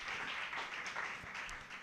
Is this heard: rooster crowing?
no